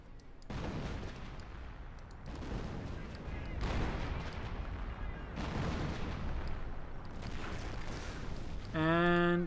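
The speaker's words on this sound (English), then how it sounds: "More artillery fire here." Artillery and gunfire in the World War II strategy game Company of Heroes, booming in heavy continuous bursts with rumbling impacts through a 1v1 match, closing with a short tonal game alert.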